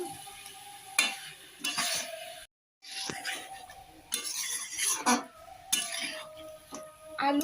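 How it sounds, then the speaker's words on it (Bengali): Shol fish with potatoes stirred and sautéed in masala in a pan, with a spoon scraping and clinking against the pan over a steady sizzle, broken by a brief pause partway through. "আলুর সঙ্গে মাছটাকে আমি আরো ভালো করে কষিয়ে নিব 1 মিনিটের মতো।"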